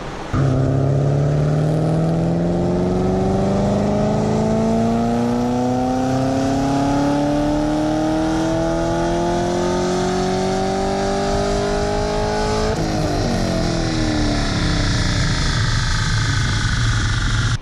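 A car with a large cam strains on a Dynojet dyno, its engine revving loudly in one long, rising pull before the throttle drops and the revs fall away.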